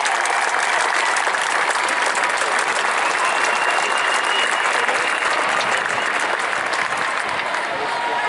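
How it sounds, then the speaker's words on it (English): A large audience applauds steadily through the whole stretch at a youth soccer regional championship opening ceremony, dense, loud and sustained clapping with no letup. "A round of applause."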